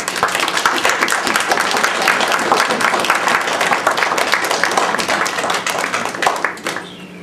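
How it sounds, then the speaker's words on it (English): A room full of people applauding agency staff, dense sustained clapping that runs evenly for about seven seconds before thinning out at the very end. "we can give them a round of applause"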